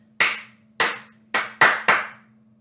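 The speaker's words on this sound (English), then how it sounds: "I'm going to clap you something first." Five sharp hand claps close to the microphone, spaced unevenly in a long-long-short-short-long rhythm, each ringing briefly against a faint steady hum.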